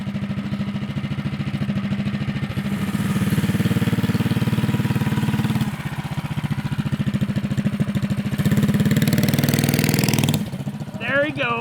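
A tiny four-wheeler with a 10 HP 212 engine runs loudly and close on grass, its steady buzzing drone swelling twice as the throttle is opened, then dropping back to a rough idle.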